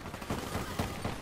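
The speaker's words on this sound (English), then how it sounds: "Sentry almost shot me." An automated sentry gun fires in Black Ops 3, heard as faint, rapid bursts of gunfire repeating in quick succession over about a second.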